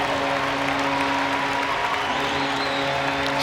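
Ice hockey arena crowd at a Sheffield Steelers versus Cardiff Devils Challenge Cup quarter-final cheers and applauds a power play goal, a dense, continuous roar filling the space.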